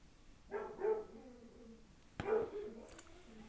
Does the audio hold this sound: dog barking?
yes